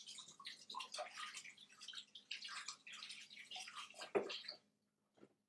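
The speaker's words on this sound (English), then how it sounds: "Just going to go and wash my hands." A tap runs as hands are washed in a kitchen sink while vegan portobello burgers are being made, splashing and trickling water in irregular bursts, then a brief clunk and near silence.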